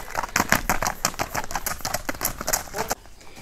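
Horse hooves clip-clop in quick, regular beats at a horse showing in Jalal-Abad. The strikes are close and crisp on hard ground, with a faint background of outdoor noise.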